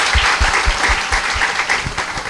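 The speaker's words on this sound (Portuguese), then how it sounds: "Uma salva de palmas para o anjo de guarda da Lucinha." Audience applause at a lecture, a dense burst of many hands clapping in steady rhythm, fairly close and loud, sustained for the whole stretch without speech over it.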